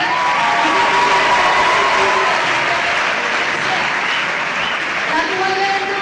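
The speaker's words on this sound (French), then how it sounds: "Beaucoup d'applaudissements." Sustained applause fills a university graduation ceremony, a dense crowd clapping steadily for several seconds, with faint voices and some scattered cheering mixed beneath.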